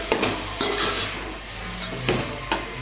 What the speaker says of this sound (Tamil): இஞ்சி பூண்டு பேஸ்ட்டு போட்டு நல்லா இதை வந்து நம்ம வதக்கி விட்டுடலாம்